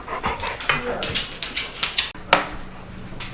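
Dog panting eagerly while waiting for dog treats in a home kitchen, quick close breathy pants in short bursts with a light clink partway through.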